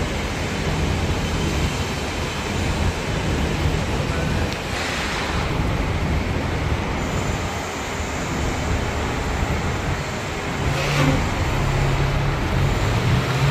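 Steady wash of traffic noise on Regent Street in Central London, a dense continuous roar of passing vehicles with wind rumble and no clear gaps.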